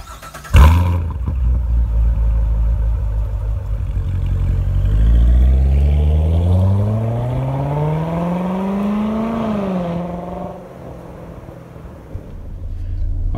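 A 2018 Chevrolet Corvette Grand Sport starts with a sharp burst, settles into a loud idle, then pulls away with a rising engine note that climbs steadily before easing off, close and without talk.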